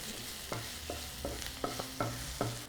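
Onion sautéing in a pan for prawn thoran makes a quiet hiss, with a spoon scraping and tapping against the pan about six times in an even rhythm, and no voices.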